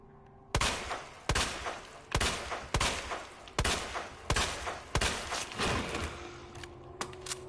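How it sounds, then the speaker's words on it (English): Gunfire in a Resident Evil game: about a dozen sharp, loud shots fired at a steady, evenly spaced pace, each with a short ringing tail. "You actually shoot this guy down."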